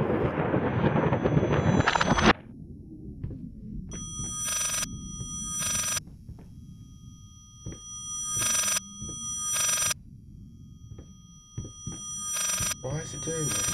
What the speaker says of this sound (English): Really, you don't like the phone ringing or something?